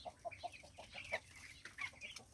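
Two-week-old broiler chickens crowded in a pen give soft, rapid clucks and short peeps in quick succession, faint and close, with no talk.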